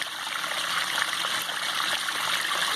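A backyard waterfall pours steadily into a pond, a continuous close splash and trickle that holds even and unbroken throughout, with no voices.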